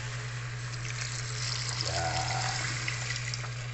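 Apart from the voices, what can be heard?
water poured into pork intestine blood stew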